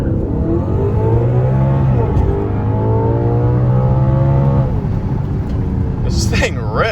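An Audi, either a stock RS5 or a tuned S6, launches and accelerates with a loud rising engine roar, revving up through the gears while someone talks over it.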